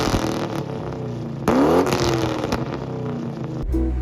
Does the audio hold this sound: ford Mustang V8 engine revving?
yes